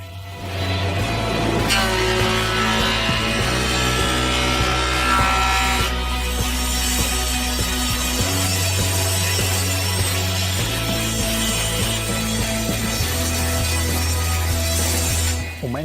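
A band saw cuts wood for the steps of a wooden ladder, making a loud, continuous whirring drone with several shifts in tone as the blade feeds through the timber, close by and with no talking.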